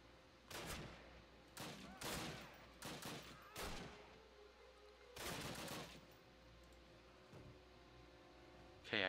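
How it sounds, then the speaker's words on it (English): Gunfire in a Call of Duty battle: scattered loud shots and short bursts crack out at irregular intervals over a low background hum, with no talking. "Okay, I'm getting shot at,"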